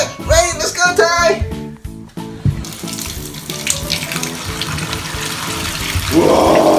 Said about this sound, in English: Now let me go turn on the water